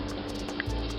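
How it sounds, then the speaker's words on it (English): Water from a pot of boiled macaroni pours off in a steady, close liquid rush with a brief splashy surge near the end, no voices present. "Now, I need to pour off the water."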